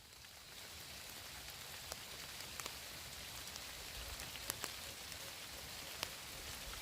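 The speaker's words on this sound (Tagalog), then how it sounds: "Ayan, umuulan na guys." Steady rain hisses down over a surface, with scattered louder drops tapping now and then; constant and fairly soft, no voices.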